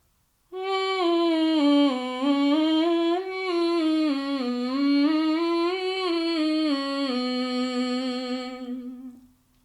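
A single sustained vocal tone glides up and down in smooth waves, sliding through pitches without breaking, then settles and fades; no words.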